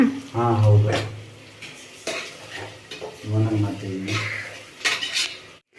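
Onions fry with cinnamon, cloves and bay leaf in a pot for biryani, a metal spoon clinking and scraping against the pot in bursts over a faint, steady sizzle, with a low hum-like tone now and then.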